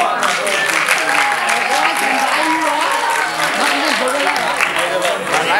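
Steady audience applause at a magic show fills the room, dense and continuous throughout, with some voices mixed into the crowd noise.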